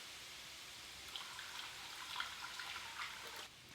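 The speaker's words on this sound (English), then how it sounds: "Go ahead and add in my broth." Broth poured into a pot of browning beef heart stew, a faint steady splash and trickle of liquid lasting a few seconds.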